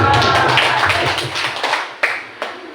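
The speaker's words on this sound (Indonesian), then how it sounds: "yuk kasih tepuk Pak Yan." A small group in a school training session applauds briefly, scattered hand claps fading out, with a couple of last isolated claps near the end.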